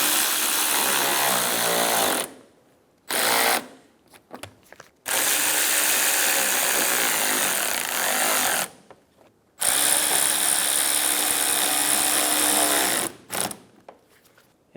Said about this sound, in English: Install the 3 screws on the side of the fender liner.